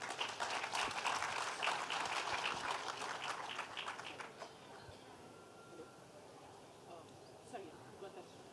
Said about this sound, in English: We need to applaud him.